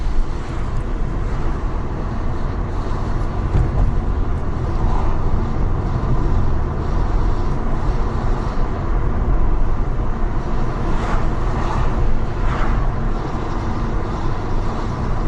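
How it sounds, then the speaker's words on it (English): Inside a Mercedes E55 AMG on the move, a loud, steady wash of road and engine noise holds evenly throughout, with no clear gear changes or voices. "This E55 is a pleasure to drive, so comfortable."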